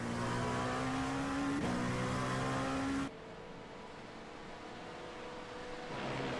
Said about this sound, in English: LMP2 car, I think, just ahead of us.